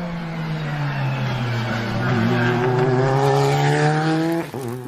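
Toy race car with a steady engine whine climbing in pitch, loud and close, ending in a brief clatter near the end.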